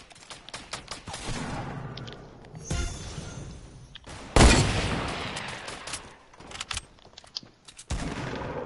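Video game gunfire crackles through the round as scattered single shots and short bursts, with one loud, heavy blast near the middle. Quieter in-game effects fill the gaps.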